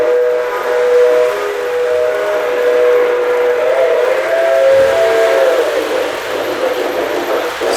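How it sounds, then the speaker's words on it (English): A model train of the New York Central hums steadily along its track while a whistle-like tone sounds continuously over the rumble, loud and close. "Here's the New York Central going around the track."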